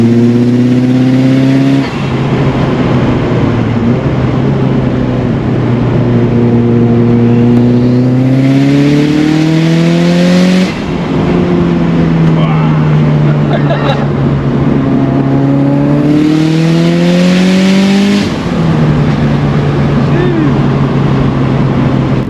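A 380 hp Mitsubishi Lancer Evolution 6 engine revs hard and climbs through the gears into fourth, pitch rising then dropping at each shift, with people talking over the loud drone.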